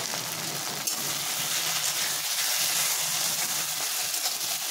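Slit green chillies fry in hot oil for chilli chicken, giving a steady bright sizzle throughout with faint scraping knocks of stirring, close and moderately loud.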